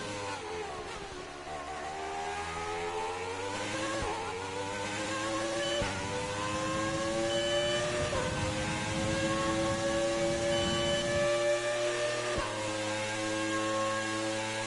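An old Formula 1 car engine in the F1 2020 racing game gives a sustained, high, buzzing drone with rising and falling pitch through gear changes, loud and steady the whole way, with no talking.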